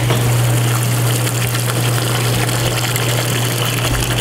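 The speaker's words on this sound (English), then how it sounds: "once everything is done in the machines, we get to empty the dye water out" Dye water drains out of fabric dyeing machines in a steady, loud rushing gush with a constant low pump hum underneath, unbroken throughout.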